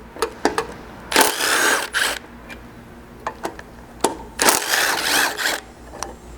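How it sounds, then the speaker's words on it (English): Ratchet work on a 2nd gen Toyota Tacoma rear bumper, a 12mm socket loosening the top bolts, with sharp isolated clicks and two longer bursts of rapid ratcheting, close and loud. "grab a 12mm socket and remove the 2 top bolts here, holding this trailer plug in place"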